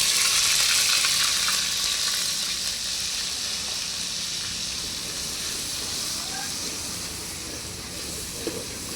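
Onion frying in hot oil for a mutton curry, a loud, steady broadband sizzle and hiss close by that slowly eases in intensity, with no speech over it.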